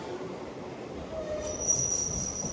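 A train brakes to a halt at a station, its wheels letting out a thin, high squeal that grows sharper over a steady low rumble, heard close by with no talking.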